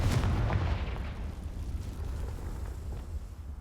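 A Confringo blasting spell in a Harry Potter video game detonates with a heavy, rumbling explosion that hits hard at once and then rolls into a long, fading boom.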